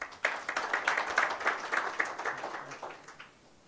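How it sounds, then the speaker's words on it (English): Audience applause at a national stakeholder conference session, greeting a European Union ambassador: a steady spread of clapping lasting a few seconds, fairly distant and moderate, thinning out toward the end. "Round of applause, please"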